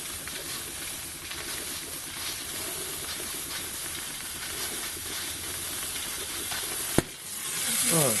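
Steam hisses steadily from a workshop water pump setup, a broad continuous rushing noise, ending with a sharp click or knock near the end before the hiss resumes.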